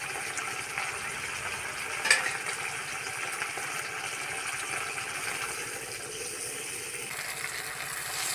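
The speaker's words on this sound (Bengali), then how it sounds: "এবার আমি এর মধ্যে ঝোলের জন্য জল দিয়ে দেবো।" Water pours into a pan of small fish curry with tender vegetable stalks to make the thin broth, a steady, even rushing wash lasting the whole stretch, close and without talk.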